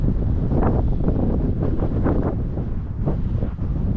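Steady wind buffeting a microphone in Quetico in spring after rain, a loud low rumble with gusty surges throughout and no voices.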